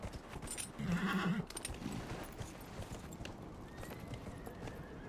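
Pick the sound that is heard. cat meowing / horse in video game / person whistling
horse in video game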